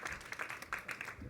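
Brief audience applause for panel speakers at a museum conversation event, a short patch of moderately faint, uneven clapping from a crowd.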